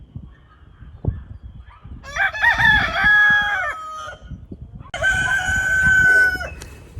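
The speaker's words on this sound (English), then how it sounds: "We got too many roosters" Two long, loud rooster crows ring out close by on a windy, cold day, each lasting over a second, with gusty low wind rumble underneath and no talking.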